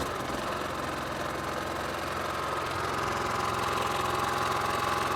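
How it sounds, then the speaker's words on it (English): A Champion 4500-watt remote-start inverter generator runs steadily with eco mode off, giving a continuous even engine hum with a faint rising tone, close and alone without talk. "Really quiet generator."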